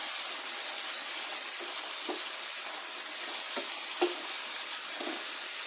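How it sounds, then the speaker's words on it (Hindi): Peas being stirred and fried with spices in a pan, a steady close sizzle with occasional soft scrapes of stirring, no talk. "अब मैं इसमें डाल दूंगी सबसे पहले मटर। मटरों की बुनाई करनी है।"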